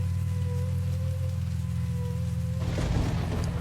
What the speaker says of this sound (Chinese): 我靠，一直在打雷啊！